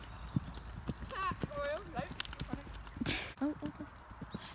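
Horse hooves loping over an arena course in a steady three-beat rhythm, close and clear, with the rider and a coach talking over the hoofbeats.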